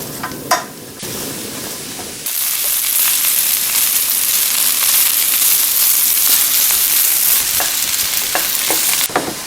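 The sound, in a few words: stir-frying sundae with chili and ginger over high heat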